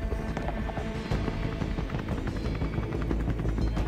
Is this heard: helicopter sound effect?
yes